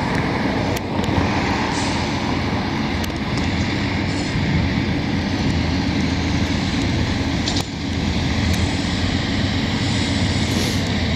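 Long CN mixed freight train rolling past in Montreal, a loud, steady rumble and roar of wheels and cars close by, with faint squeals and clanks throughout.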